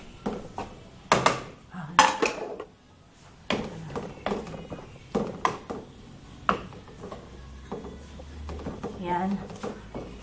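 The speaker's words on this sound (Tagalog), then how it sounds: "Hahaluin lang ho ng hahaluin yan hanggang maluto po ang ating kasaba" Cassava mixture being stirred in a pot, with irregular knocks and scrapes of a spoon against the metal, close and fairly loud, while a person talks over it.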